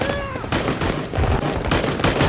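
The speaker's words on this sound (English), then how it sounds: "they came under heavy gunfire from one of those turban" Heavy gunfire in a film scene as soldiers waiting for air support are attacked by a militant group, with dense, continuous bursts of shots and explosions at steady loudness across the whole span.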